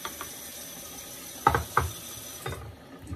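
Water runs from a sink tap as a safety razor is rinsed under it, with a steady faint wash of flow broken by a few sharp clicks and knocks of the razor against the basin.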